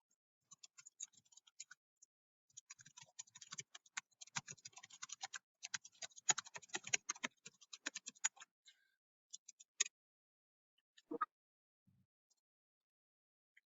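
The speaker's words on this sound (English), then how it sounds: "So you can see that I have typed out a message for my teacher" Someone types a chat message on a computer keyboard in quiet surroundings: rapid, faint key clicks come in irregular bursts, thickest in the middle, then thin out to a few isolated taps near the end, with no voices.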